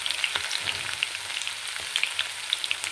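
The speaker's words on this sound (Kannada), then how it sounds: "ಇದೆಲ್ಲ ಸ್ವಲ್ಪ ಫ್ರೈ ಆಗಲಿ ಎಣ್ಣೆಯಲ್ಲಿ, ಕಲರು ಚೇಂಜ್ ಆಗುತ್ತೆ." Dry red chillies and crushed garlic fry in a little oil, giving a close, continuous crackling sizzle with scattered small pops and the occasional scrape of stirring.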